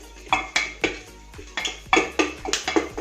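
Cloves, peppercorns and a piece of cinnamon being stirred in a pan for a Saoji mutton curry, a spoon scraping and knocking against the metal in about a dozen sharp, uneven clinks up close.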